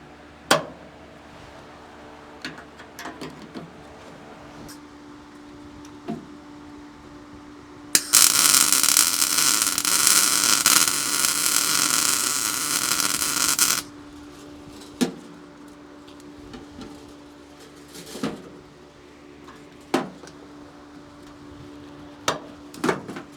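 A 110 welder arcs steadily for about six seconds while a seatbelt plate is fitted into a classic truck, a loud buzzing crackle that stops abruptly, with scattered clicks and knocks of work before and after.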